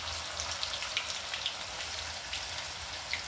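Flipped pieces of a leftover rice snack frying in a pan, giving a steady close sizzle with light crackling pops and no talking.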